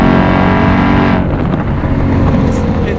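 A supercharged Ford Mustang GT with a Hennessey HPE800 upgrade accelerates hard on a track, its engine roaring loud and close as it climbs through the revs. After about a second the roar drops into a rougher rushing tone with wind noise.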